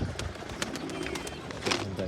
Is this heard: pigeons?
yes